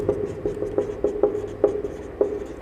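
Handwriting during a Class 10 maths lesson on real numbers, a steady series of short scratchy pen or chalk strokes, fairly close and clear, with no talk over them.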